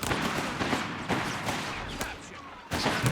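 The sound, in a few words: machine gun gunfire in Company of Heroes 3 video game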